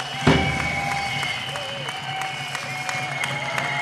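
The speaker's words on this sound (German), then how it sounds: "Gebt euch selbst mal einen Applaus." A crowd at an outdoor demonstration on a town square claps and cheers after a loud opening burst, steady applause over background hum, with a few whistles or shouts mixed in.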